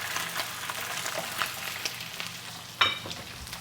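Pork and asparagus stir-frying in hot camelina oil, a steady broadband sizzle throughout with soft stirring scrapes and one sharp clink of a utensil near the end.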